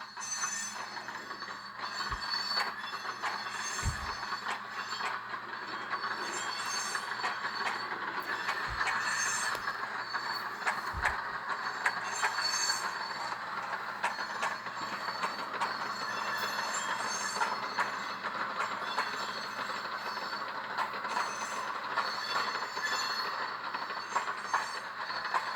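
A Soundtraxx Soundcar model railroad sound decoder plays a rolling train car: continuous clattering rail and wheel noise with squeal, steady at moderate level, plus a few low thumps early on, with no talk.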